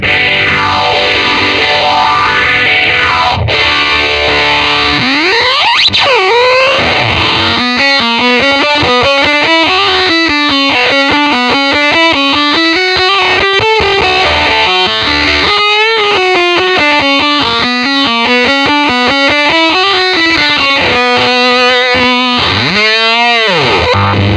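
A heavily fuzzed electric guitar through a Fuzz Factory pedal plays a gritty, buzzing riff with bending notes, loud and saturated, ending in a swooping pitch slide.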